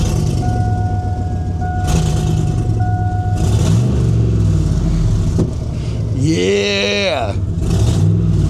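Old squarebody truck with a rotted-out exhaust, its engine idling loud and rough throughout, with a rising rev sweep near the end and a brief spoken remark.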